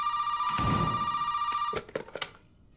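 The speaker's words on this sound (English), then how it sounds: "Another phone's ringing again." A telephone in the video game Resident Evil 7 Biohazard rings with a steady electronic bell tone for nearly two seconds, then stops. A few sharp clicks and knocks follow, with no talking.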